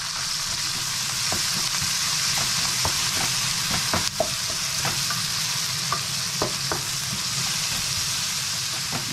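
Tomato and bitter gourd sizzle in a pan while being stirred, the steady frying hiss broken by frequent scraping and clacking of the utensil, close and continuous with no voices.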